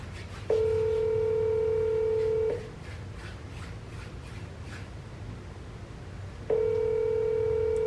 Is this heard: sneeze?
no